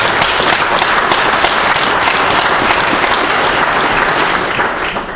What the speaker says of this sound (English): When you applaud for that statement,